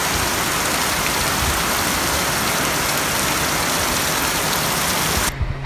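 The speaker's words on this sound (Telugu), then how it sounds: "Full heavy rain in Goa." Heavy rain pours in Goa as a dense, loud, continuous roar of drops hitting surfaces, steady throughout, with a faint engine idling beneath and a sudden drop in level at the very end.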